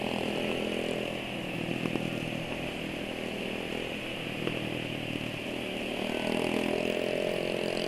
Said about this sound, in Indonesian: 3 motor berisik semua